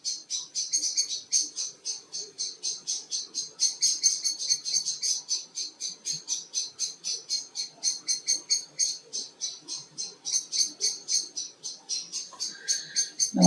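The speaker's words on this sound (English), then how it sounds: "This is when you know that the owls are around, when the blackbirds are having a go at them." Blackbirds scold in rapid, repeated alarm calls aimed at owls, a steady stream of sharp chattering notes continuing throughout at moderate distance, with a faint low background.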